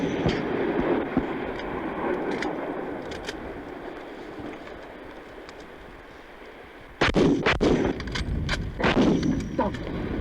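A Swiss Stgw. 57 rifle launches a rifle grenade on a firing range: one sharp, loud blast cuts through steady outdoor rumble and wind, followed by echoing crackle and rolling reverberation.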